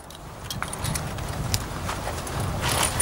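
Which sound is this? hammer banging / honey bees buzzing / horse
horse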